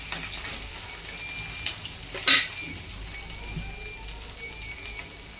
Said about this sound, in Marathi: एक साथ सगळा मसाला आपल्याला तेलात फ्राय करून घ्यायचा आहे